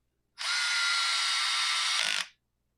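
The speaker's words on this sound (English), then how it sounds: "These screws that I'm running down in here right now, we're cutting new threads in that short block." A power driver runs screws into a Husqvarna 550XP Mark II chainsaw short block, cutting new threads: one continuous high motor whine lasting almost two seconds, loud and close, then stopping abruptly.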